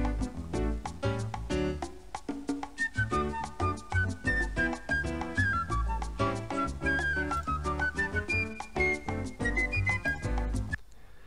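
Parrot sound effect from an IBM PC330 486 computer running OS/2 Warp: bright, whistling, bird-like melodic calls over a steady rhythmic musical backing, playing continuously for about eleven seconds.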